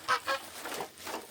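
Several farmyard geese honk close by in quick, loud bursts, a few calls overlapping in a short, noisy exchange.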